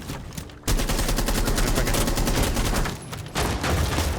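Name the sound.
assault rifle gunfire in video game Rainbow Six Siege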